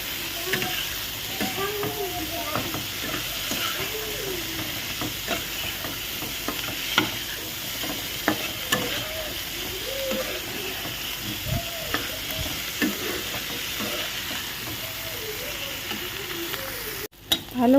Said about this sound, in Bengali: ভালো করে ভেজে নিলাম